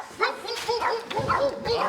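Several neighboring dogs bark and yip close by in a backyard by a house, a run of repeated barks with whiny, yelping edges.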